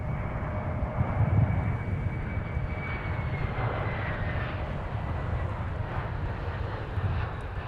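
An Airbus airliner landing on runway 12 right at Minneapolis–St. Paul airport, a steady loud engine roar with a faint rising whine, heard from nearby with no voices over it.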